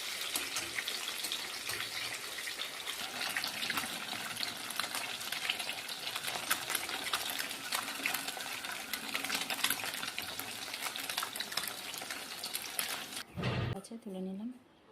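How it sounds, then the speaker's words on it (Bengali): Pieces of katla fish frying in hot oil to a light brown, a close, continuous crackling sizzle that runs steadily for most of the clip before a brief clatter and sharp drop near the end. "মাছগুলো একটুখানি হালকা ব্রাউন করে ভেজে নেব"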